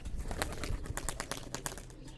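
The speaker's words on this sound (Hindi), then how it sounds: "पहला कबूतर।" A pigeon coos low and close, mixed with quick soft flutters and rustling over about two seconds.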